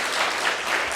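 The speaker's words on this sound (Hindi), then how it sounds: "तो फिर जोरदार तालियां होनी चाहिए" Loud, dense applause from a gathering at a Buddhist vihara in Badlapur, Mumbai, a continuous roar of many hands clapping without audible speech.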